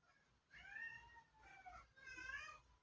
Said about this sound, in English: Of course, my cat starts meowing.